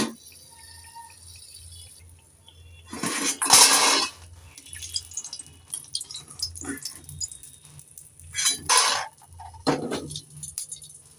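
Metal ladle lifting fried lentil dumplings (bori) out of hot oil into a bowl: scattered clinks and scrapes in two or three bursts over a soft background of oil sizzle.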